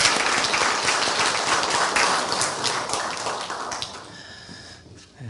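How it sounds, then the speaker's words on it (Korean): A university chapel audience gives encouraging applause, dense and loud from the start, thinning out toward the end until only a few scattered claps are left. "우리 격려의 박수 하겠습니다"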